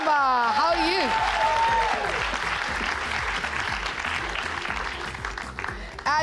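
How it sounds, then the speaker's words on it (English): A studio audience breaks into sustained applause and cheering for a guest named Maria, the clapping dense and loud, briefly overlapped at the start by an excited voice. "Can we give a round of applause and a cheer for Maria?"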